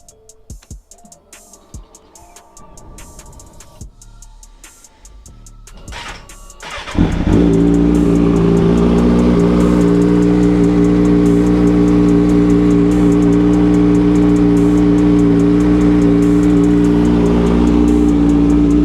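A 2019 Kawasaki ZX6R motorcycle fires up after a spark plug change, its engine settling into a loud, steady, close-up run with revs held high after a quiet stretch of handling noises.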